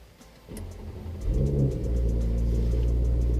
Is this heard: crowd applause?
no